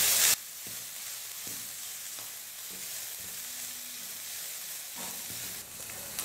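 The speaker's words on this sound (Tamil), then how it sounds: "ஸ்டவ்வை மீடியம் ஃப்ளேமில் வச்சுட்டு நல்லா வதக்கிக்கிறேன்." Chopped carrot and cabbage sauté in a pan over a medium flame, giving a steady, even sizzle with occasional soft stirring scrapes, close and unaccompanied by talk.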